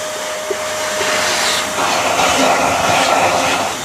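A DF54 coffee grinder running during cleaning gives off a steady, loud whirring drone close by, holding an even pitch for a few seconds with no talking.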